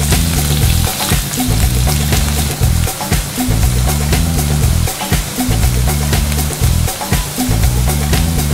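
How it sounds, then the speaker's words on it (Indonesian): Tempeh frying in hot oil, a loud, constant crackling sizzle with a few rhythmic clunks underneath, close and unbroken throughout. "Kemudian goreng tempe sampai warna coklat atau kering."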